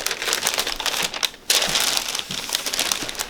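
Tissue paper crinkling and crumpling up close while Nike Air Max 1 sneakers are unboxed, a steady dense rustle broken by a brief pause midway, no voices.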